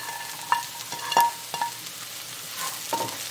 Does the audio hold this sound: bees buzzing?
no